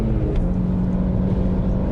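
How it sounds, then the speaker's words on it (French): A BMW E90 320si engine revs up inside the moving car, a dense steady drone with a sustained low tone heard from the cabin, loud and without talk. "On a le temps de profiter d'une montée de régime"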